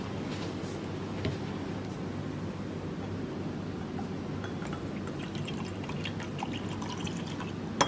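About 100 millilitres of water pours steadily into a container for an empirical formula chemistry experiment, a soft continuous trickle with light drips and splashes at close range and no talking.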